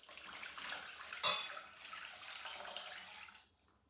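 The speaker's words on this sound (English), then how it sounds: "First, I'll add in my 662 grams of water." Water poured into a container on a digital scale while mixing sourdough dough, a soft, steady splashing stream with one brief louder splash, fading out at the end.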